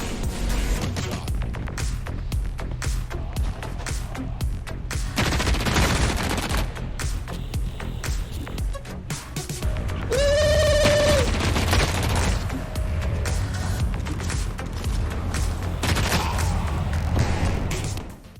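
Rapid, sustained gunfire from a cheap beginner weapon in the shooter game The Cycle: Frontier, loud and continuous, with dense bursts of shots layered over heavy game ambience and a brief tonal whine midway.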